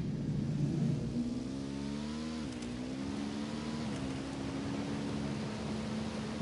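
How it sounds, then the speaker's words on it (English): A video game vehicle's steady engine hum drones under broadband rumble, its pitch rising and shifting as the vehicle accelerates, with no voices. "I'm hearing engine noise."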